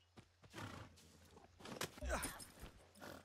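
Horse neighing and hoof clip-clop from the open-world shooter game Far Cry 6, with several whinnies rising over game noise and someone talking over the animal sounds.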